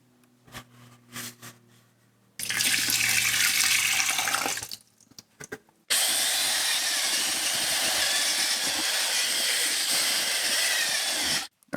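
Another half liter of water is poured into a clay slip mixture made from casting trimmings, a close, hissing splash in two bursts: a short pour, a brief pause, then a longer steady stream.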